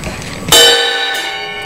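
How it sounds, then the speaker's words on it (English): A drummer strikes the bell of a ride cymbal once, producing a loud, bright metallic ping with a long shimmering ring that fades slowly, preceded by a brief softer stroke. "It's the bell on your ride"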